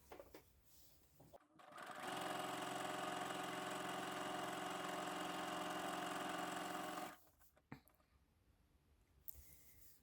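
A sewing machine runs a straight stitch at stitch length 2.5 with a universal needle through stretchy Bengaline fabric, a steady mechanical whirr lasting about five seconds, close and loud, with no talk.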